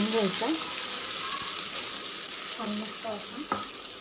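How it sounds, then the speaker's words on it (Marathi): Soaked sago pearls fry in ghee over medium heat, making a soft steady sizzle with occasional stirring scrapes, while a faint voice-like tone drifts in and out. "ह्याच तुपामध्ये तो शाबू फ्राय करून घ्यायचा आहे फुगेपर्यंत मिडियम गॅसवरती"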